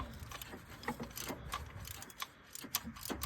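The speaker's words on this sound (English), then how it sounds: "So the first one we're just on with the 3/8 drive ratchet, 14mm socket." A 3/8-inch drive ratchet with a 14mm socket works on a 2011–17 Honda Odyssey engine during a timing belt job, giving a series of close, quick clicking ratchet strokes at an uneven pace.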